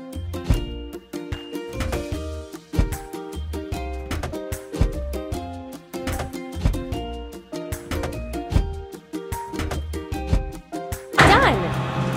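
Repeated heavy pounding thuds of a hydraulic hammer in a kids construction truck game building a forge, rhythmic strikes layered over a steady bouncy music track, ending in a brighter burst of sound.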